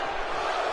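A wrestling arena crowd in the WWE 2K18 video game roars in a steady, dense wash of cheering, loud and continuous with no break.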